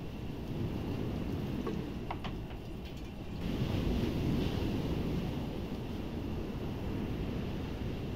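Surf rolls onto a seashore with wind noise on the microphone, a steady low roar that swells partway through, a few faint clicks early on, no talking.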